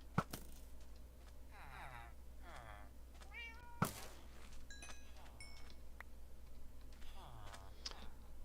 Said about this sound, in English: I'm gonna go over here by my cat.